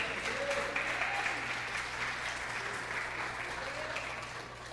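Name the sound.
church congregation applauding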